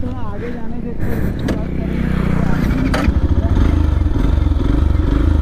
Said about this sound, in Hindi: हम FZ राइड करते हैं और आशीष बंदा R15 राइड करेगा, देखते हैं यार